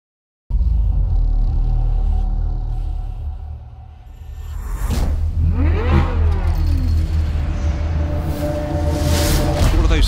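The engine of a Chevrolet C8 Corvette Z06 revs hard and close up, holding a loud rumble before dipping, then sweeping up through sharp rising and falling revs that stay loud to the end.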